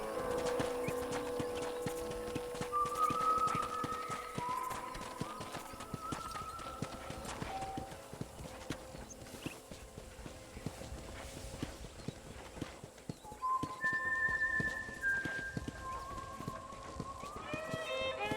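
Hooves of a galloping horse in the Western video game Red Dead Redemption clop in a steady rapid rhythm throughout, with occasional whinnies and faint background ambience.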